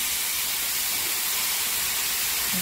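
Chopped onion and tomato frying in oil in a pan, a steady soft sizzle and hiss held at an even level throughout, with no talk over it.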